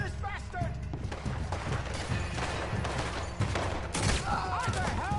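Repeated gunshots in Red Dead Redemption 2, loud and close in an ongoing firefight, with shouting voices and game dialogue mixed in.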